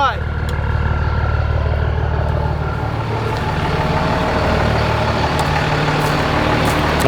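A heavy truck with a trailer hooked up rumbles loudly and steadily at close range as it begins to roll, with the deep engine drone continuing throughout.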